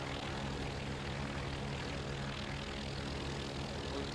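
Propeller engine drone of an A5M fighter plane in the flight game IL-2 1946, a steady, even hum that holds at one level throughout, moderately loud and close, with no speech.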